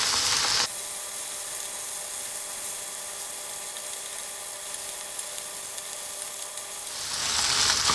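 Chicken pieces for fried rice fry in a pan with a continuous close sizzle that swells louder at the start and end, and no talking.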